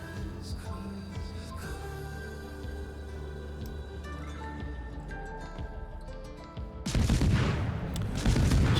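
Naval guns on the destroyer USS Forrest Sherman firing high-explosive shells in World of Warships: a loud, dense burst of cannon fire erupts near the end and keeps booming over a steady tonal game-music backdrop.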